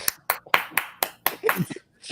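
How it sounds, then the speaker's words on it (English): Hands clapping in a steady rhythm, about eight sharp, close claps spaced a quarter second apart, with a short vocal sound near the end. "Everybody clap your hands when you heard that smack."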